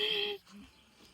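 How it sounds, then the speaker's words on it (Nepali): A sheep in a village gives one short, nasal bleat close by, and a quieter low murmur follows after it. "आफ्नो घर गयो भेडा"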